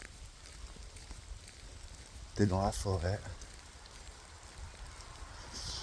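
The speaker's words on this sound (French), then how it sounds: "Il pleut." Rain falls steadily in a forest near Roncesvalles, Spain, a soft continuous patter on leaves and ground throughout, with a person speaking briefly partway through.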